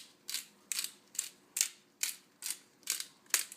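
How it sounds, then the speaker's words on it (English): A pepper mill grinds cherry peppercorns coarse in eight evenly spaced crunchy ratcheting twists, close and crisp with quiet gaps between turns. "We're going to sprinkle some cherry peppercorns. Grind them up right over the top of it."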